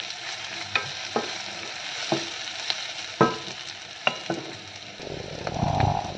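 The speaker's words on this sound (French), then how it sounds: "on a nos oignons là qui commencent à bien revenir" Onions sauté in a pan with a constant close sizzle, punctuated by regular sharp taps and scrapes of a utensil stirring, which swell into a busier sizzle near the end.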